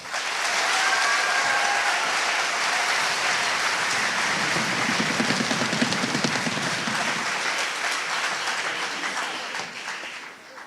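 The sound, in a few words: audience applause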